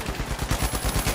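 Rapid automatic gunfire in the video game The Finals, a fast run of close, loud shots in an even rhythm over about a second with no talk.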